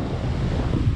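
Ocean waves wash onto the beach at Playa del Carmen in a steady, loud rush of surf, heavily mixed with wind buffeting the microphone, with no talk.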